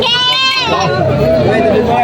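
Goats bleating at a busy livestock market in Padre Garcia, Batangas, several loud overlapping wavering calls filling the whole stretch, with crowd chatter underneath.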